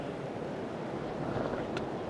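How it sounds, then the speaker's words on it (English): Strong wind buffets the microphone outdoors beside beehives, a constant loud rushing roar with low-end rumble and no pauses. "It is so windy right now. It is just crazy windy"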